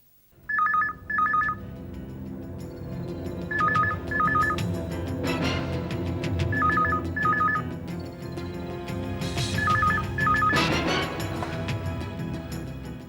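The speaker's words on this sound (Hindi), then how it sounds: "इंस्पेक्टर जादव और नितिन राठौर को फोन लगाओ" Telephone call in a Hindi crime serial: a phone ring pattern repeats in paired bursts, loud and evenly spaced, over background music with some dramatic swells.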